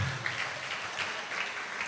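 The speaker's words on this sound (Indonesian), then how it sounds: "Kasih tepuk tangan." Scattered applause from a church anniversary congregation, fairly faint and steady for a couple of seconds, with a low hum underneath.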